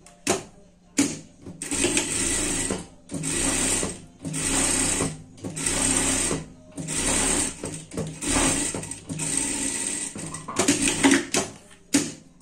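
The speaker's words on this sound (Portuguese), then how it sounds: "vamos passar uma costura aqui." A domestic sewing machine stitches a seam on a dress, running in steady bursts of whirring stitches separated by short pauses, close and alone with no talk.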